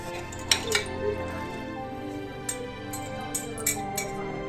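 A metal spoon stirring a thick stew in a crock pot, with scraping and a few sharp clinks against the sides, close up and alone.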